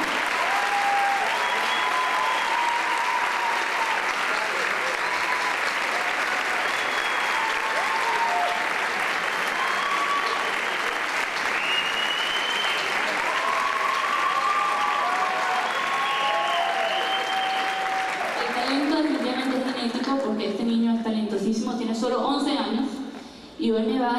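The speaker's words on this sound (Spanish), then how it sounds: "quiero que me ayuden a dar un fuerte aplauso" Live concert audience giving a long, strong round of applause to welcome a young performer, dense crowd clapping with whistles and cheers over it, then fading as a voice speaks near the end.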